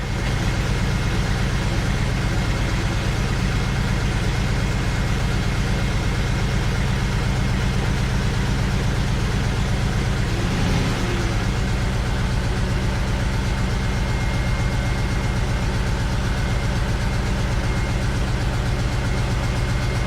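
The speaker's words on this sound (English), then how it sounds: "That's starting to sound a little more like a happy engine." Rebuilt BMW X5 engine idling steadily just after its first start, a constant low rumble with even mechanical ticking that holds unchanged close by for the full stretch, with no talk over it.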